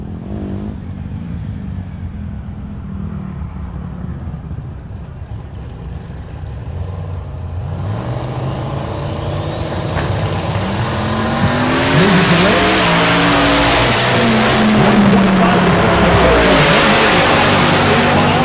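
Meltdown Firebird drag car at Tulsa Raceway Park making a pass, a low engine drone building into a loud, rising roar with tire squeal and high whine as it accelerates down the strip.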